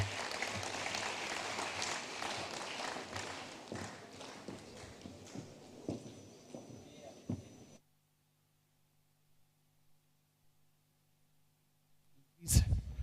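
Conference audience applauding after a speaker at a families event, a dense clatter of claps for several seconds that tapers off, followed by near silence and a brief loud burst at the end.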